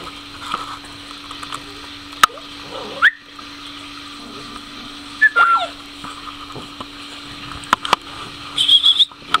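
A two-month-old mastiff puppy gives short, high whimpers and squeaks at intervals against a quiet background with a faint steady hum and soft patter.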